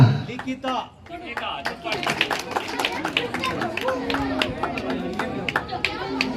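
Audience applause at a women's rangoli contest held for Ganesha festival as prizes are handed out, a lively patter of many hands under crowd chatter and an announcer's voice.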